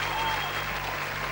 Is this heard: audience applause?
yes